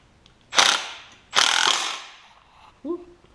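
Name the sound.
tightening a nut on a riding mower axle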